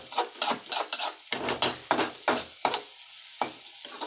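Onions sizzle in a pan as a spoon stirs them in quick repeated scrapes and pushes, a rhythmic run of close, crackling bursts over a soft, steady frying hiss.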